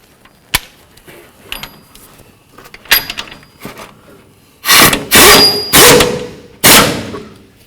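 Metal clicks and clanks as a 19mm wrench tightens a front upper control arm bolt on a 2003–2009 Toyota 4Runner, scattered light taps at first, then four louder, longer ratcheting bursts close by near the end.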